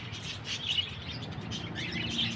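A small bird chirps in short, faint tweets over a soft outdoor background, with no one talking.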